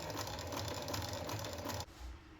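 A sewing machine runs steadily, top stitching along the edge of a white fabric piece, its close, even whir lasting about two seconds before cutting off abruptly.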